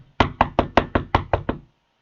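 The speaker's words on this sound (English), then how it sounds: "Knock on the door." Eight sharp knocks on a door in a quick, even rhythm, close and loud, each with a short hollow ring, then silence.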